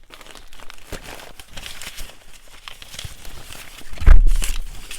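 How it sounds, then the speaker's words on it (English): Someone rummages through a bag of old paper scraps up close, with crinkly rustling and crackling, small tearing sounds, and a louder crumpling burst near the end. "I'm just going through my bag of old bits"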